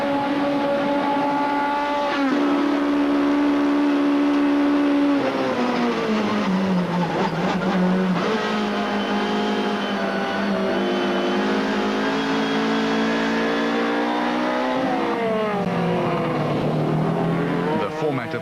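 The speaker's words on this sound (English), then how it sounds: "How the extra grunt of the Corolla allows it to pull away on the straight, with Habig then closing back up onto the Corolla's tail under braking." A Toyota Corolla rally car on a stage straight, its loud engine rising through the gears in repeated climbing sweeps, then easing off under braking before revving up again, with another car close behind and a voice commenting over it.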